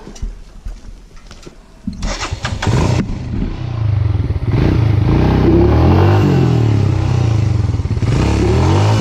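A Royal Enfield Himalayan motorcycle stuck in a riverbed during the SJOBA Rally 2019 revs hard and close, with clattering and scraping at first, then a loud sustained engine roar that holds through the rest.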